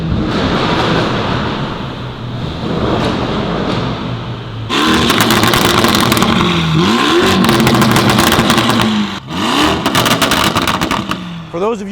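A tuned Lamborghini Urus engine (VW EA825) idles and then revs hard several times, loud and close, with sharp rising and falling blips.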